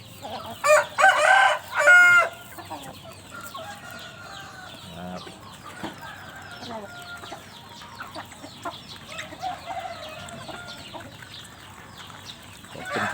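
A rooster crows loudly near the start, followed by a yard full of chickens clucking and chattering steadily in the background during morning feeding after rain.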